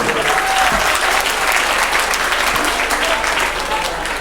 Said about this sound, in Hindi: प्राची श्रीवास्तव, तालियां हो जाए